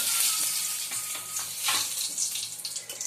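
Curry leaves and cumin seeds sizzling in hot oil in a home kitchen, a loud, crackling fry with bursts of spitting that flare and settle, close up and with no talking.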